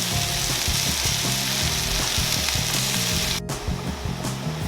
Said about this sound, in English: So you can keep these mushrooms in here till they brown, about 5 to 7 minutes.